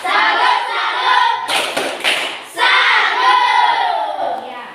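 A group of people performs the Indonesian 'tepuk salut' clap chant in a classroom, with voices chanting together and a burst of rhythmic clapping in the middle.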